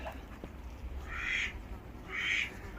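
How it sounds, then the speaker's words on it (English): Muscovy ducks kept in a backyard pen give two raspy, breathy calls about a second apart, faint and somewhat distant against a quiet outdoor background. "Muscovy ducks,"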